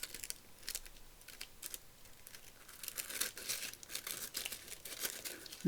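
Soft snipping and crinkling of scissors trimming surplus fabric, quiet and close, in an irregular series of small cuts.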